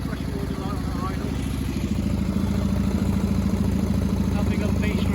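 A Triumph Bonneville T140 motorcycle idles close by, its twin-cylinder engine putting out a steady low throb with a light mechanical clatter, even and unbroken for about five seconds.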